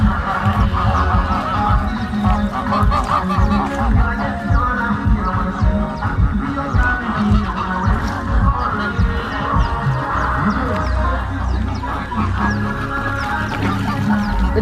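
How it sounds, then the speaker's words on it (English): Ducks swimming in an artificial pool on a farm in Africa. Their busy quacking is loud and close, with dense, overlapping calls continuing for the whole stretch against a steady farmyard background. "The ducks, look at them swimming."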